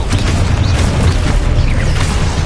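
Repeated booming spell blasts from the Confringo fire spell in the Hogwarts Legacy video game, a dense, loud barrage of bursts and pops over rumbling game effects during combat.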